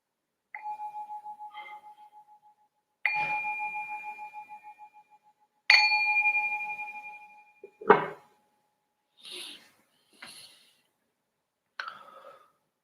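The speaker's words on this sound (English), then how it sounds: "ring this bell to signal the start of our first" A meditation bell struck three times at a slow, even pace, each ring a clear sustained tone that fades gradually, followed by a few fainter, shorter chimes and soft knocks, with no voices.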